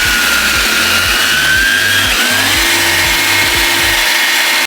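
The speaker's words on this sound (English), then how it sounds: "we're switching the heads on our mechanical to a medium bristle brush" A motorized medium bristle brush scrubs a pair of Jordan 4 Retro Thunder sneakers with a loud, close whirring drone that pulses in a fast, repeating rhythm and shifts slightly in pitch.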